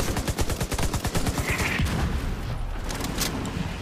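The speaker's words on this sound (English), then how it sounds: "The mortars and everything" Rapid automatic gunfire rattles in a fast rhythmic burst, then gives way to heavier booming blasts from mortar explosions in a battle at the Capitol Building in The Division 2, loud and dense without voices.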